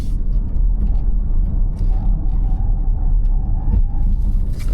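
Cadillac OPTIQ V electric car launching from a standstill under launch control, a steady loud low rumble of road and drivetrain noise with a faint whine rising above it, heard from inside the cabin.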